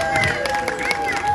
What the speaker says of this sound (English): why are you clapping for him?